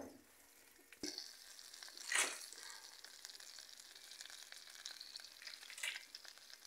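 Butter melting in a covered pot of popcorn kernels being shaken on the stove gives a steady soft sizzle with scraping bursts, one louder rattle near the start and another near the end, with no talking.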